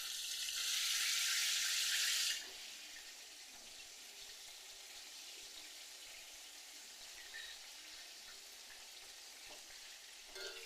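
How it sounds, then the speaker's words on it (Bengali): Chicken pieces fry in oil in a home kitchen, turned over in the pan. A loud hissing sizzle lasts about two seconds, then settles into a softer, steady frying hiss with faint clinks, and no talking. "দেখুন আমি উল্টিয়ে পাল্টিয়ে ভালো করে ভেজে নেব।"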